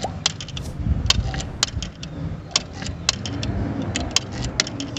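Car key for a Fiat Palio G1 being turned in the ignition: a light jangle of keys and sharp metallic clicks, close by, over a low steady rumble of the car.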